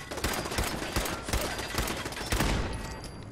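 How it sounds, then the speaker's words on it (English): Automated turret firing in the Fallout 4 video game: rapid bursts of gunfire repeat throughout, close and loud, with sharp shots packed into several clusters and no talking. "You can hear the turret behind me."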